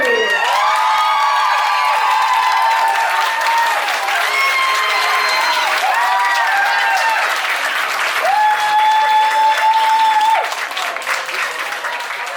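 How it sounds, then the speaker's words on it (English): A crowd claps steadily and cheers at a rockabilly pin-up contest at a riverside campground, a continuous loud wash of applause with whoops and tonal whistles or shouts rising above it throughout. "please give a round of applause for contestant number 8, Miss Pansy Blue."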